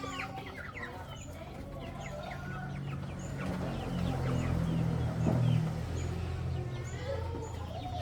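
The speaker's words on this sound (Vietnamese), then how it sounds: "Đàn gà cũng lớn nhanh thật đấy." A flock of chickens clucks continuously at close to mid distance, with overlapping calls in a busy farmyard murmur and faint background voices.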